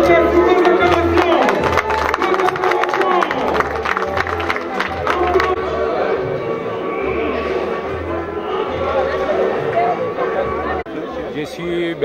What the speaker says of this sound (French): Nous avons l'acclamation pour le chef,